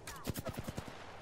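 A Hemlock rifle firing single shots in Apex Legends, heard as a quick series of about five evenly spaced, fairly faint reports within a second.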